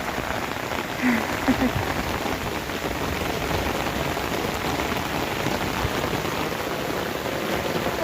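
Rain pours steadily on a village, a dense, even hiss of drops on surfaces close by that never lets up, with a couple of faint thuds early on.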